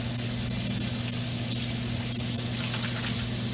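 A faucet runs at a sink as hands are rinsed clean, producing a steady, loud, close hiss of spraying water with a faint hum beneath it.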